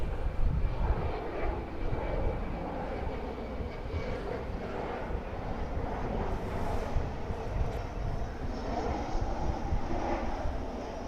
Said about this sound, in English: here comes a jet in now